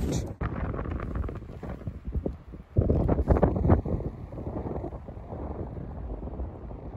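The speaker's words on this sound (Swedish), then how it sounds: "just nu blåser det fruktansvärt" Strong wind gusts roar across the microphone while walking in a forest, buffeting and rumbling unevenly in bursts, loud and close with brief lulls.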